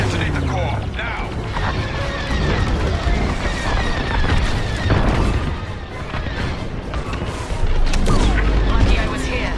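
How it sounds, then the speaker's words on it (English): Core detonation in a Star Wars: Squadrons space battle, a dense, continuous roar of explosions and heavy booms with blaster fire and rumbling impacts, loud and sustained, with voices briefly heard in the mix. "Detonate the core, now!"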